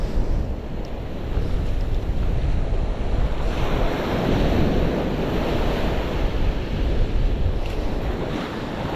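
Ocean waves washing over beach sand, a steady continuous roar of surf with wind noise buffeting the microphone, loud and close with no talk.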